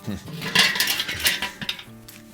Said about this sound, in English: let's open up the kettle and take a look